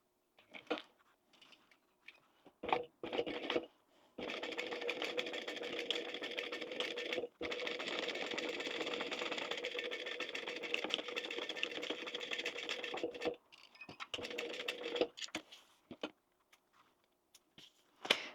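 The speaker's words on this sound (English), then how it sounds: "I am going to back stitch over each edge slightly, just so that it's definitely secure." A sewing machine back stitching along the edges of a fabric wallet, running in a steady whirring burst for several seconds between shorter starts and stops, close and alone.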